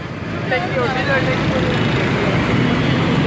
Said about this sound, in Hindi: ट्रैफिक की जो रवानी है वो बहाल हो चुकी है मुकम्मल तौर पे